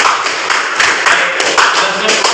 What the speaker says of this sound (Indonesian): silakan berikan tepuk tangan untuk kalian semua